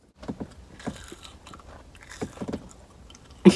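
Close, crunchy chewing and biting sounds in an ASMR style, with several distinct crisp bites and mouth noises repeating irregularly, ending on a louder crunch.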